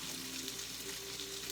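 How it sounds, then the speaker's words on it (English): A pot of water with a little oil boils for noodles, a steady close sizzling bubble that holds evenly throughout, alone without talk. "this one is the boiling water. A boiling water for our noodles"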